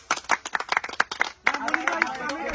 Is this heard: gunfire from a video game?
no